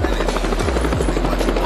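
A helicopter flies close by in a 3D animated scene, its rotor producing a loud, steady chopping drone with rhythmic low thumps throughout.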